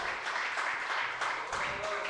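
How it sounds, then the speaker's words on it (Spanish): A church congregation at a Sunday school service applauds together, a dense continuous wash of clapping at moderate distance that holds steady throughout. "Dele un aplauso al Señor."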